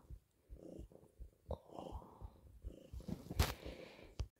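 Cat on the Aran Islands purring close by in soft, rhythmic rumbling cycles, joined by a few sharp snorts or sniffs, with no talk.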